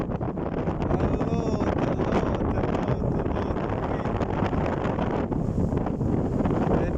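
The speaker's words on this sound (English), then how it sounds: "There's a lot of wind, if you can see the trees here." Strong desert wind in the UAE buffets the microphone in a constant loud roar, with a voice speaking briefly over it.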